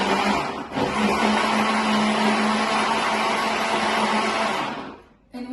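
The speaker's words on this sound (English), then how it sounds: "we're just going to give that a little bit of a whiz" A blender whizzes orange, rind included, with sugar and other cake ingredients, a loud continuous whirring motor that runs steadily for several seconds before winding down and stopping.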